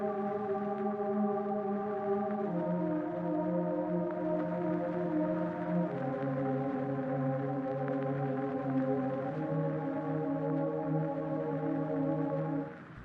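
Soft lofi synth pad chords in a beat, sustained and smooth, changing chord roughly every three seconds with no melody on top, alone and steady.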